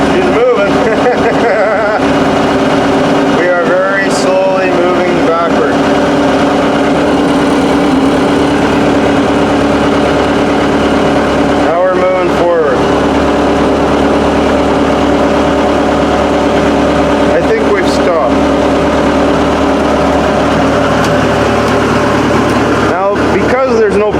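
Engine of a Chinese JC60 Super Monkey skid steer running steadily as the machine creeps slowly backward, a continuous mechanical drone throughout with brief clanks, while a person talks over it.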